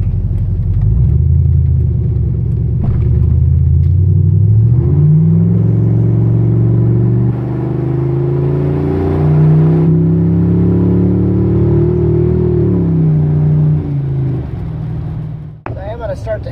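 A budget LS-swapped Ford Ranger pickup cruising on a wet highway, its V8 droning loud and steady with engine pitch climbing and falling as it accelerates and shifts, a deep continuous rumble throughout.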